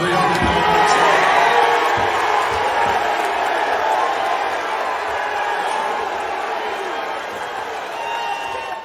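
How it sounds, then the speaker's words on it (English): A large crowd roars and cheers continuously, a dense wash of voices that stays loud throughout with a slight fade toward the end. "the crowd is cheering him as he leaves"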